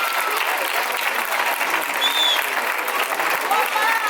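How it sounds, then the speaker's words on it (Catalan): A theatre audience applauds a young singing-contest winner being welcomed on stage, the dense clapping loud and steady across the whole stretch with crowd noise mixed in. "Un fort aplaudiment per a Melanie."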